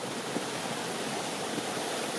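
Steady broadband rush of a mountain stream flowing along a trail toward the John Muir Wilderness near Mt. Whitney, continuous and fairly faint, with no voices.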